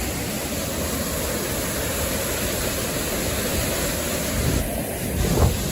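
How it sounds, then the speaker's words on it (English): Creek water flows all around a person standing in the middle of a creek near a waterfall, a dense, steady rushing wash with a faint splash toward the end and no voices. "I'm actually like standing in the middle of the creek"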